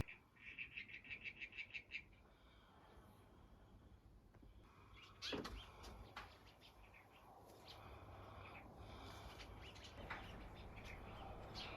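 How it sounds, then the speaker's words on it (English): Birds call and chirp outdoors at a mountain retreat, with a quick run of repeated bright notes at the start and then scattered calls over a constant low background hum. "Isn't it just lovely to listen to the birds tweeting?"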